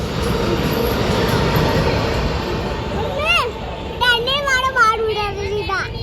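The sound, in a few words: train passing at railway station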